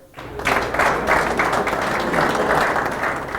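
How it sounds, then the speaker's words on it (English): Audience at a billiards players' meeting giving a round of applause, a loud dense burst of many hands starting abruptly and holding steady to the end. "give Hector a nice round of applause"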